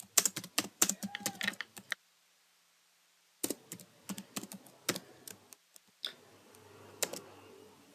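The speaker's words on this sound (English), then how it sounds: "We can simply write in this idle print." Computer keyboard typing in Python IDLE on Windows: crisp, close key clicks in quick bursts, a silent pause of about a second and a half, then more scattered keystrokes.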